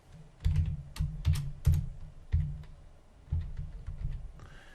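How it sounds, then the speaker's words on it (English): A case number being typed on a computer keyboard for an evidence-management search, with bursts of close, crisp keystrokes separated by short pauses and no voices. "I type my case number"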